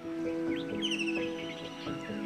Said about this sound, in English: The whistles and songs they sing take me to another state of mind.